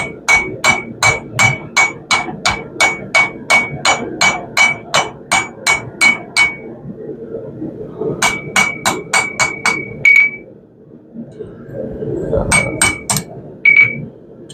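Rapid, ringing hammer blows strike steel in quick even bursts with short pauses between runs, loud and close, with a voice murmuring underneath, while forging an herb chopper.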